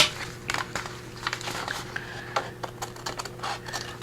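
Scissors trim excess paper from a shabby rose folio craft project in a quick series of close, crisp snipping and crunching clicks in an irregular rhythm, with no talking.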